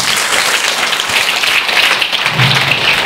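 Students in a school classroom clap their hands together in a loud, sustained round of applause with no talk over it.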